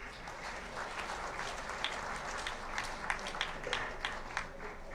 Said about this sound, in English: I managed to get few claps here and there without a prepared speech